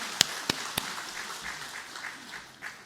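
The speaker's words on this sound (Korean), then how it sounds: "우리 하나님께 영광의 박수를 돌립니다." Church congregation applauding after a sermon, with three sharp separate claps near the start followed by a soft, distant patter of hands that gradually fades out.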